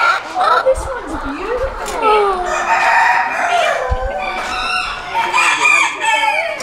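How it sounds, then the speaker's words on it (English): Chickens cluck and chatter nearby at a poultry show, with a brief crowing-like call, under people talking amid a busy indoor crowd. "those are like little tiny chickens"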